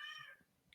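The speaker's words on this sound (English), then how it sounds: "there's Bessie just running around the background, meowing away" Cat meowing in the background: a single faint, drawn-out meow that fades out, followed by a couple of soft, brief thumps, with no talking.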